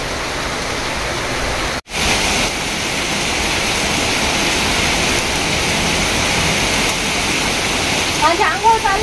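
Heavy monsoon downpour during a cyclone in Sinnar, a loud, dense, unbroken roar of rain that cuts out for an instant near the start. Faint voices come through toward the end.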